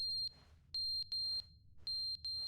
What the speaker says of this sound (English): Oh, the fire alarm's going off.